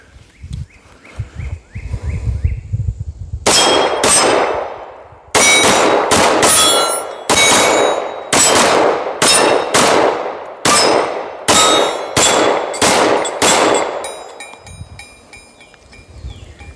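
A Canik TP9 Elite Combat pistol fires in a rapid string of a dozen or so loud, sharp cracks with metallic ringing, after a stretch of quieter background at the start.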